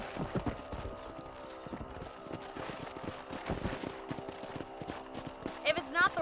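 A horse clip-clops steadily while ridden on a ranch in Red Dead Redemption, quick rhythmic hoof thuds at close range, with a voice talking over them and a faint whinny near the end.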